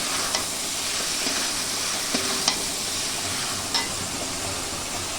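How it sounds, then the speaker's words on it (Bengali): Pumpkin slices fry in a hot pan with a steady, close sizzle that runs throughout, broken by a few faint clicks and taps of stirring; no one speaks. "আর এদিকে কুমড়ো ভাজাটাও প্রায় হয়ে এসেছে।"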